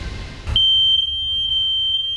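A sharp, loud, high-pitched smoke detector tone starts abruptly and holds steadily, pulsing slightly, after a brief thump.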